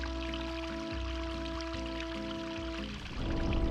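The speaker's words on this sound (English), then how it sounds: "Oh wait, this is where the water is." Flowing water in the video game Everdeep Aurora, a steady pouring stream heard alone under a droning game soundtrack, swelling louder near the end.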